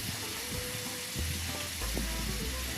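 Steady sizzling from zucchini stir-frying with egg in a pan, with occasional clinks and stirring scrapes, fairly quiet.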